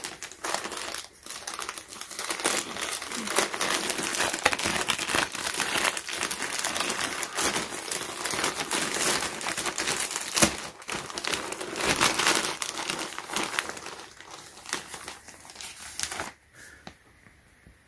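Plastic packaging being torn open and unwrapped from a pink Palace panelled shell track jacket, dense crinkling and rustling close up for many seconds, then tapering off into quiet near the end.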